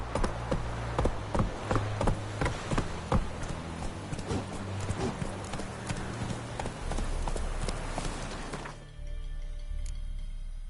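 Roach, Geralt's horse in The Witcher 3, gallops with steady rapid hoof clip-clops over ground, close and continuous until the hoofbeats stop near the end, leaving only a low ambient hum.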